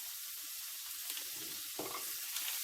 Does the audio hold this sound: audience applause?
no